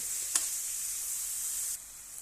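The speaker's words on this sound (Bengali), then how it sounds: "পেঁয়াজটা দেওয়ার পরে আমি দেখেন মরিচ আর রসুনটা দিয়ে নিতেছি। পেঁয়াজ রসুনটা আমি সুন্দর করে কষাই নিব।" Onion, chili and garlic sauté in a pan with a continuous bright sizzle, a single sharp clink of a spoon early on, and the hiss easing slightly near the end.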